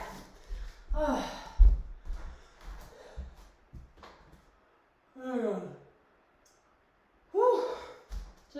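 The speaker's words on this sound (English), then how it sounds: "Just needing to yawn." A person on a livestream yawns several times, long drawn-out breathy exhalations separated by quiet pauses, close to the microphone, with some small shuffling noises between them.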